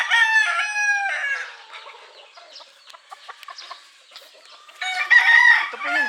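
A Boston straight comb gamecock rooster crows loudly and close by at a gamefarm, with two drawn-out crows at the start and end and scattered clucks and shuffling between them.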